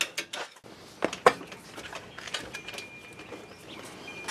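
Ratchet loosening axle bolts on a Jeep Grand Cherokee during a rear lift install, with a few sharp metallic clicks and clanks early on, then quieter mechanical shuffling and handling noise close by.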